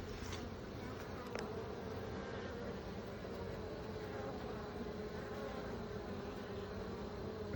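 A low, steady drone of many honey bees buzzing around an opened hive on a cool day without smoke, constant and fairly faint, with a couple of brief knocks early on.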